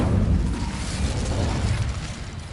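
Incendio fire spell cast in Hogwarts Legacy, heard as a steady, loud rushing roar of flame with a low, rumbling body, sustained for a couple of seconds with no voices.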